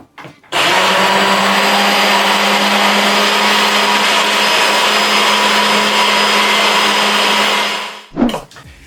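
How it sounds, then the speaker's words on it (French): An immersion soup blender whips Valrhona chocolate mousse with a loud, steady, high whir. It starts abruptly, runs for about seven seconds and then cuts off with a short clunk. "si vous avez un mixeur à soupe, eh bien vous allez le mixer"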